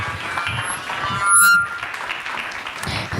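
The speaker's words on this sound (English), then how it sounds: "A round of applause again for the panelists" An audience at a conference panel discussion applauds the panelists: a steady, dense patter of clapping that fills the room and holds at an even level throughout.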